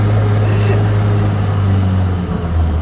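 A cold classic car engine runs on choke on a chilly morning, a steady low rumble with a lumpy idle that holds fairly loud and close throughout.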